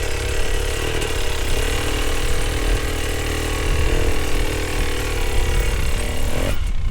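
A hard enduro dirt bike engine runs while riding off-road, a loud, steady, buzzing engine note with slight shifts in pitch and no voices.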